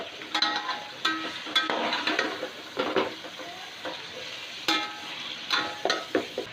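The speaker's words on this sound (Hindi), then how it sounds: "अब 1 से 2 मिनट लहसुन और अदरक को अच्छी तरह भून लें।" Garlic and ginger sizzle and crackle in a hot pan while a utensil stirs and scrapes, with intermittent clinks and knocks against the pan.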